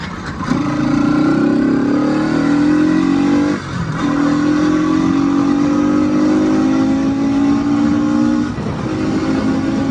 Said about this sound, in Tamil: ஏழாயிரம் RPMக்கு மேலே போச்சுன்னா வண்டி திணற ஆரம்பிக்குதில்ல